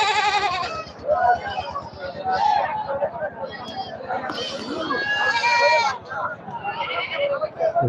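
Black Bengal goats bleating in rapid succession at a busy Sunday goat market, many overlapping calls near and far amid crowd noise and people talking.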